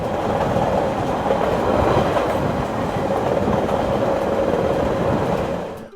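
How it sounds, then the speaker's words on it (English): A TGV high-speed train travels from Tours to Paris, heard from inside as a loud continuous rumble and roar with a faint rhythmic clatter of wheels on the rails, steady until it cuts off at the end. "took the TGV from Tours to Paris."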